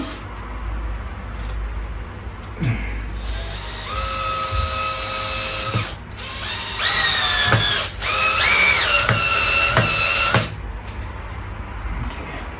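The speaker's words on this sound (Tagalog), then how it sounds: "drill na niya yung tornilyo" A power drill driving in a screw up close, its motor whirring in several rising bursts with short pauses between, loud and near, over a steady background hum.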